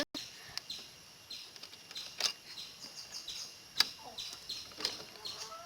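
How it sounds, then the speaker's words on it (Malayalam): Pet quails, a male and a female kept among backyard poultry, give faint, high, short chirps repeated at irregular intervals over a quiet, noisy background. "ഇതാണ് ഞങ്ങളുടെ മോയലുകൾ"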